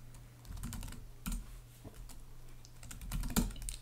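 Commands being typed on a computer keyboard while installing MongoDB on an Ubuntu server: quiet, close key clicks in short irregular bursts, with a steady low hum underneath.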